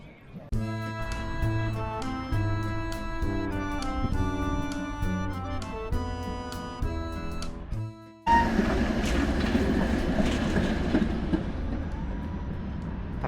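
An old red tram in Bratislava rolls along with a steady rumble and wheel noise, first with a tonal, musical hum and then a louder, broadband clatter of the moving car.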